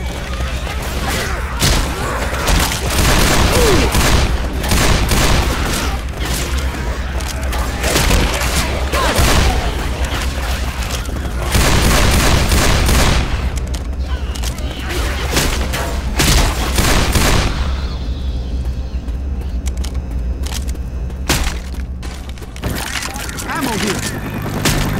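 Loud, dense gunfire and booming blasts from a grenade and weapons during a Left 4 Dead No Mercy match on Expert, crashing and explosive bursts packed close together for most of the stretch before easing slightly near the end.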